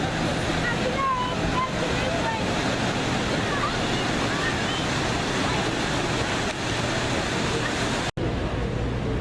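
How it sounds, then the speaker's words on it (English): Ocean waves rolling in on a beach at night near Pacific Park, a continuous roar of surf with wind buffeting the microphone, steady throughout, with a brief dropout near the end. "There are some actual waves coming in."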